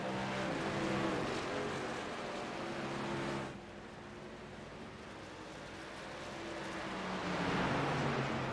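A race car engine roars in a racing video game at Sonoma Raceway, a loud sustained whine that drops off sharply for a hairpin, then climbs back up as it accelerates out.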